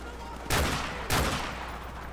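Two loud bursts of rapid gunfire in Modern Warfare Remastered, about half a second apart, each a sharp crack followed by a brief decay over quiet background.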